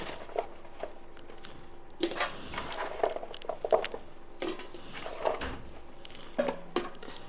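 Mango pieces for Andhra avakaya pickle dropping into a bowl with chilli powder, a scattered series of light clattering taps and knocks against the vessel, close and fairly quiet, with no voices.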